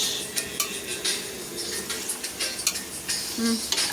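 Metal spoon scraping and clinking against a pot while vegetable biryani with fresh green peas is mixed, an uneven series of sharp taps and scrapes, close and fairly loud, with no talking.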